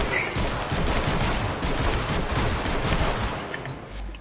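The Staticor weapon in Warframe fires a dense, rapid barrage of projectiles, a continuous crackling burst of energy shots with no talk over it.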